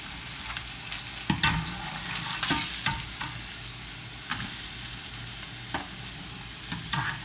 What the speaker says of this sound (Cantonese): 咁我炸晒啲蝦啦。